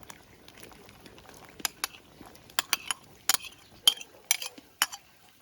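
Potatoes and carrots drop into Transcarpathian bograch stew simmering in a cauldron over an open campfire, giving an irregular series of sharp clinks and clattering knocks over faint bubbling.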